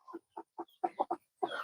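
Small farm chickens clucking in their coop, a series of short, close, distinct clucks in quick uneven bursts, ending with a longer run of softer fowl chatter.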